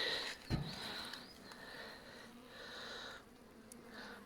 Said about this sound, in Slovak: Včely sú celkom pokojné, sú kľudné, nie sú ešte vypustené.